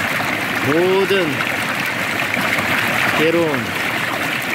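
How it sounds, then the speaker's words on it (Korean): Mountain stream water flowing in a steady broad rush, with someone speaking calmly over it in a low voice. "이 물소리와 같이"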